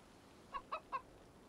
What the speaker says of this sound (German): Das ist ein Hahn.